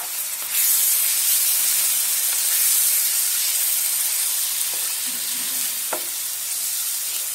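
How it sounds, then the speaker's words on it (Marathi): Tomato puree sautéing in oil for a chana masala, a loud continuous hissing sizzle close up with a few soft scraping stirs of a spatula near the end. "टमाटर प्युरी तेल सुटेपर्यंत परतवून घेऊ"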